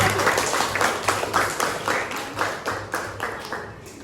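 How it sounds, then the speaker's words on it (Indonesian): A classroom of students applauds a student group after its presentation, a steady run of close, overlapping claps lasting several seconds with a faint hum beneath. "Kita berikan tepuk tangan untuk kelompok"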